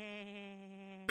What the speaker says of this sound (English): That is where goat sounds come from.